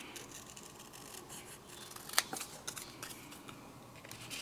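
Scissors trim paper for a handmade card, giving quiet close snips and paper rustles with one sharper cut near the middle, no talking.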